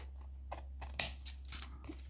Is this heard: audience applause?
no